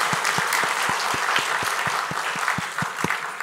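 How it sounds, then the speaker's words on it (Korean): A church congregation in Busan, children among them, gives a warm round of applause during a worship service, a steady patter of many hands with soft regular thumps running underneath. "우리 사랑의 박수로 환영하도록 하겠습니다."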